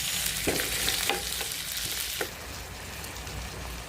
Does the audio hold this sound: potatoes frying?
yes